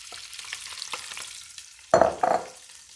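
Andouille sausage dropped into a hot pot for white beans and rice: quiet crackle at first, then two sharp, loud sizzling bursts close by as the meat hits the pan, with no voices.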